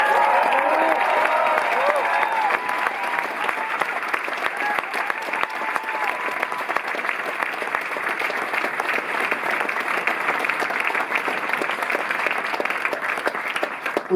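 Sustained applause from a concert audience at a Paris jazz club, greeting the jazz pianist; dense steady clapping fills the whole stretch with a few faint voices mixed in.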